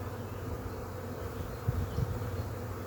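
Honey bees buzzing around a hive being split for an artificial swarm, a steady low drone close by with a couple of slightly louder swells, no voices.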